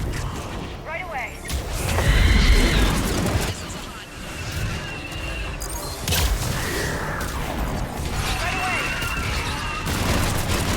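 Missile strikes explode in the Mass Effect 3 game, a series of heavy booms and crashes with mechanical whirring and beeping tones between them, loud and continuous through the whole stretch.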